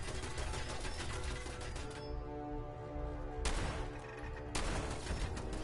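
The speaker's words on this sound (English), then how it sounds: "Seriously, those turrets." Rapid bursts of automatic turret gunfire in Fallout 4, loud and close, broken by short pauses between volleys.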